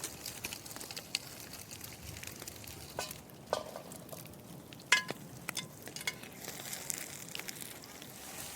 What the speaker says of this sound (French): je vais faire chauffer l'huile d'olive pour brunir les oignons